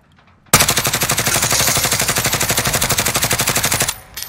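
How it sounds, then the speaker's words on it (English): Sustained automatic gunfire in a video game, a loud, rapid, evenly spaced burst of shots lasting about three and a half seconds, alone with no talk, then cutting off abruptly. "I'm shooting you from behind with your limit."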